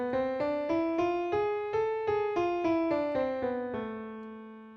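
A single melodic instrument plays a harmonic minor scale of eight sustained notes, rising then falling back down, each note struck cleanly in an even steady rhythm.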